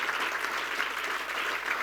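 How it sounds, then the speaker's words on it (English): Audience applause at a business talk on global account management, even, steady clapping from a moderate-sized crowd that continues without a break for under two seconds. "round of applause"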